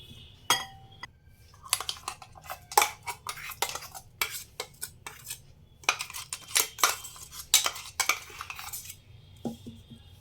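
Ingredients for bhetki fish paturi are gathered into a bowl, with a busy run of clinking metal spoon and dish knocks, scraping and tapping against the bowl, close and fairly loud with no talking.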